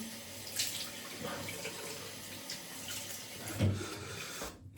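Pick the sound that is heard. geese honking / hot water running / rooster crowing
hot water running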